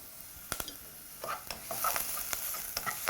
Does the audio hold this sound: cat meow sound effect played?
no